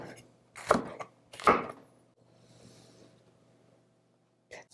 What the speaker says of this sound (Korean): 좀 굵게 이렇게 썰어주세요